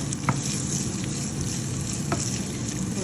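Dried red chillies and onion sizzle in hot oil for tempering a stingray fish dish: a continuous close crackling sizzle with a couple of brief stirring clicks.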